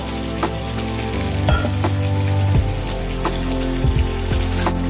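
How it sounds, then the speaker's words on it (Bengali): Mutton stir-frying in a pan with a splash of water added, a steady low bubbling sizzle with occasional sharp scrapes and clinks of a spatula stirring, close and alone. "আমি আবারও সামান্য একটু জল দেব, আবারও কিছুক্ষণ কষাবো, জলটা শুকানো পর্যন্ত"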